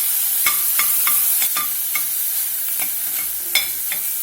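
Diced ham sizzles steadily in a pan over medium-low heat. A utensil scrapes and stirs it with light taps every half second or so, close and fairly loud, with no voices.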